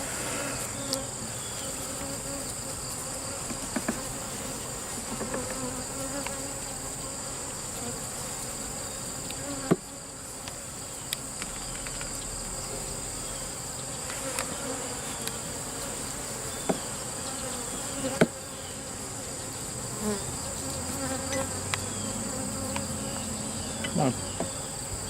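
Honey bees swarm around an open beehive, a dense continuous buzzing hum that fills the air up close, steady throughout with occasional small knocks and handling sounds, and no voices.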